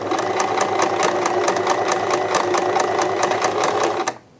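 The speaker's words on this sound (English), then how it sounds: "every now and then that needle comes over and it takes a little bit of a bite out of the fold here" A sewing machine running a blind hem stitch on folded fabric, the needle periodically swinging over to bite the fold, hums steadily and close with a rapid regular clatter before stopping abruptly near the end.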